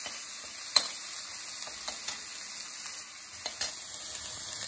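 Ginger and garlic sizzle steadily in a hot pan with a little ajwain, a constant close hiss broken by a few faint clicks and stirring taps, with no talk.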